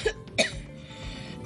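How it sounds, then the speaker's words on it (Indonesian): A person coughs twice in quick succession, two short, fairly close bursts that fade into quiet room noise. "dada aku jadi sesak karena terlalu banyak batuk"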